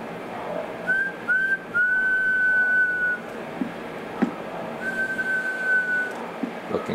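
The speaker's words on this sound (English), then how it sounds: "Give it a quick little whistle in there." A person whistles into the microphone of a Galaxy DX2517 CB radio, giving several steady, sustained tones in short bursts with brief gaps, heard alone over a faint background hum.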